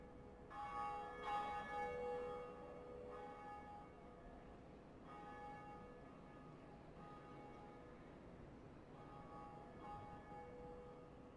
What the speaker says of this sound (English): So we have now rang 1 out of 2 Bells of Awakening